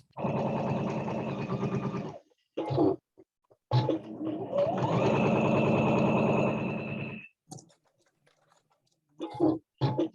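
A sewing machine stitches fabric in bursts, running steadily for about two seconds, then a longer stretch with a rising whir, followed by short taps and stops; close and fairly loud, with no voices.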